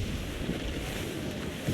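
A sailing ship in Assassin's Creed IV Black Flag battles a stormy squall, with a steady, loud roar of wind and rushing sea noise running without break and no voices.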